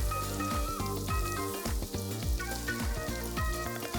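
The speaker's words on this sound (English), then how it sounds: "we're going to mix it up so that the bread gets the flavor and the butter" Bread pieces frying in butter in a pan, a dense continuous sizzle with crackles and occasional stirring scrapes, close and loud with no talking, while background music with steady tones plays.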